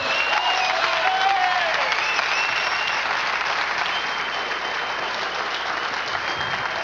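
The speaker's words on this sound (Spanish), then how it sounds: "Denle un aplauso fuerte al Señor" A church congregation breaks into loud, sustained applause during a sermon, a dense continuous roar of clapping from many hands that fills the room evenly from start to finish.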